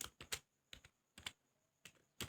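Code tapped out on a computer keyboard, quiet close clusters of quick keystrokes in short bursts separated by brief pauses.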